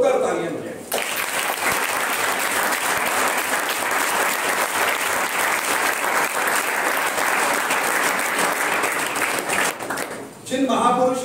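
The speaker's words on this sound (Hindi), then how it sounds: "जोरदार तालियां बजाएं" A large audience at a birth-anniversary commemoration breaks into loud, sustained applause lasting about ten seconds, dense and steady throughout, with a brief dip near the end before the clapping swells again.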